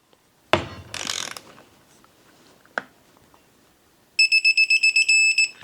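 Mechanical clicks and a ratcheting rasp as bolts on a Suzuki LTZ400 engine cover are worked, followed by a rapid series of about ten sharp tonal beeps from a torque wrench reaching its setting.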